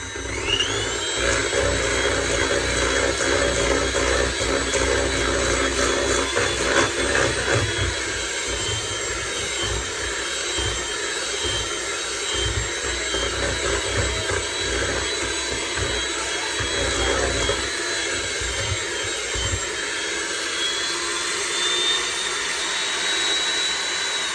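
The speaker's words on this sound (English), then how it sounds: "our mixer has done an excellent job" A stand mixer kneading bran bread dough at high speed, a loud, steady motor whine with a rhythmic thumping churn underneath, continuous and close for the whole stretch.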